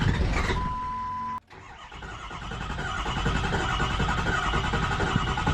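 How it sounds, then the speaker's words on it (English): A 6.0 Power Stroke diesel engine cranks over without catching, a steady grinding starter churn after a brief pause, close and fairly loud with no voices. "It was just cranking, no start."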